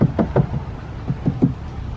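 Knuckle knocks on the body panel of a Porsche 356 C classic car, six or seven close, hollow taps in two quick clusters, with no voice.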